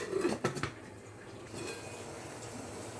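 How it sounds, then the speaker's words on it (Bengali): A lid is set onto a pot of amla for steaming in a home kitchen, giving a few close, sharp metallic clinks and clatters early on before settling into quiet. "এবার ঢেকে দেব, এটা স্টিম হোক 5 মিনিট।"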